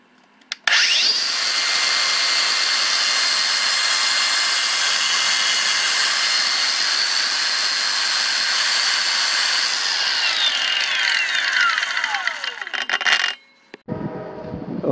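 A Kobalt 24-volt brushless cordless circular saw, a 4-inch model, switches on by accident and whines loudly and steadily for about twelve seconds. It then spins down with a falling pitch and cuts off.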